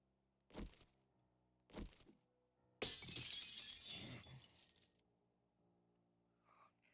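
Glass breaking in the video game 7 Days to Die with the War3zuk AIO Overhaul mod: two short sharp knocks, then a loud, bright shatter that rings and crumbles for about two seconds before fading.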